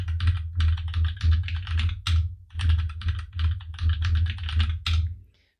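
Typing on a computer keyboard as a new password is entered at the command line: quick bursts of close, crisp key clicks separated by short pauses, ending in silence.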